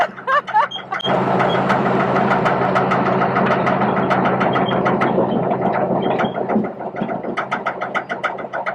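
A military tank rumbles throughout a ride at a classic car museum, with a loud, steady engine drone and clanking mechanical rattles up close, and voices faint at the start.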